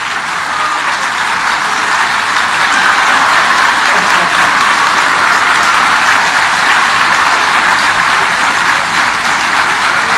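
A large audience at a Ram Katha religious discourse in Vishnuprayag applauds loudly and continuously, a dense, steady wash of many hands clapping that holds an even level throughout, with no voices standing out.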